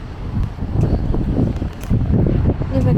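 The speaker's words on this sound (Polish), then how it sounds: "Dzisiaj wieje mocno." Strong wind buffets the microphone in loud, gusty low rumbles that rise and fall throughout.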